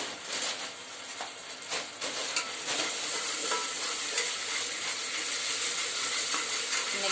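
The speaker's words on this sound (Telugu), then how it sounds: "ఆనియన్ టమాటా బాగా ఫ్రై అయిపోయిన తర్వాత అల్లం వెల్లుల్లి పేస్ట్" Onion and tomato fry in oil for a country chicken curry in a pressure cooker, giving a close, steady sizzle with several stirring scrapes early on, then a continuous hiss.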